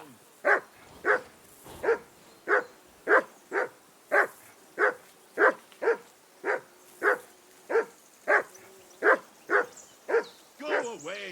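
Dog in the medieval game Kingdom Come Deliverance 2 barking again and again, about a dozen sharp, evenly spaced barks at close range, persistent and rhythmic with no voices over them.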